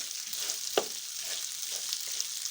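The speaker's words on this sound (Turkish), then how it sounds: "Pirincimizi güzelce kavrulduktan sonra arpacıklarımızı da ilave edeceğiz" Rice toasts in a pan before pearl onions go in, producing a steady, gentle frying hiss with one distinct scrape or clunk near the start and faint stirring after.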